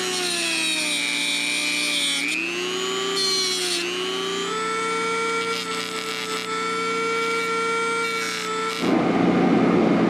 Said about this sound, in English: The trick is to cut off what's left of this and then to file it nice and smooth.